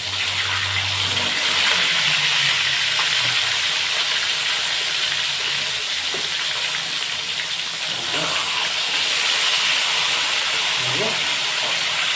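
Sea bream sizzles in hot oil, giving a steady loud hiss and crackle throughout with small pops, and a faint voice now and then underneath.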